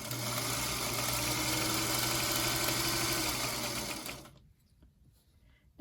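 Sewing machine running steadily while chain piecing quilt block triangles, a continuous close mechanical whir that stops abruptly near the end, leaving near silence.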